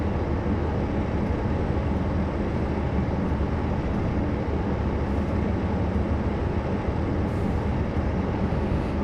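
A train on the East Coast Main Line passes as a continuous, loud, even rumble and roar, steady from start to finish with no breaks.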